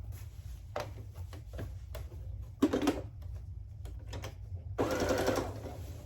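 A sewing machine stitches plaid fabric for men's pants in short bursts of rapid needle clatter, a few separate runs over a steady low motor hum, close and fairly quiet.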